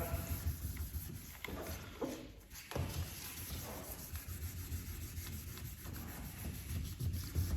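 Close, steady rasping of sandpaper wet sanding black paint on a 2006 Vauxhall Corsa C panel in continuous back-and-forth strokes, with a low background hum.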